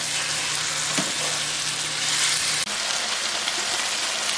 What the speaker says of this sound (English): Now I'm gonna cook this chicken for about 5 to 6 minutes